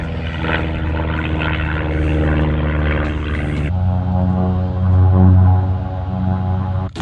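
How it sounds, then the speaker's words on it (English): A propeller airplane flying aerobatic loops overhead drones loudly and steadily, its buzzing engine tone shifting pitch partway through and swelling briefly before the end. "Some guy going nuts in his airplane, like doing loop-de-loops and weird aerobatic stuff."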